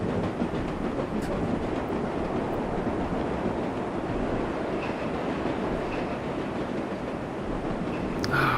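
A subway train in the World of Subways 4 simulator on an express run to Flushing Main Street rumbles steadily along the track, a continuous loud roar with faint rhythmic clatter throughout.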